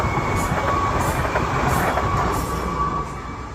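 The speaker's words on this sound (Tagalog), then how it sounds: "parating na yung train guys" A train passes close by in a steady, loud rumble of wheels on rails that eases slightly toward the end, with faint high squeal tones and no talking.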